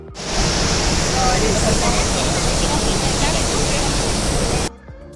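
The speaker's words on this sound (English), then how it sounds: "Just to give you an idea, here is how loud the sound of waterfall was" Rhine Falls in Switzerland, heard from its southern side, gives a loud, dense, steady roar of rushing water that stays constant, then cuts off abruptly just before the end.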